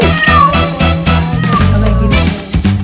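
A cat meows loudly and repeatedly up close, a steady run of insistent cries with no pauses between them.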